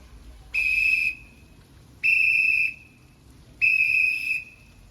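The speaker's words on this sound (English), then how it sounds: "I will blow the whistle anyway" Three sharp, steady whistle blasts, each about half a second long and evenly spaced, blown to call lions in for training at a lion enclosure, with quiet ambient background between them.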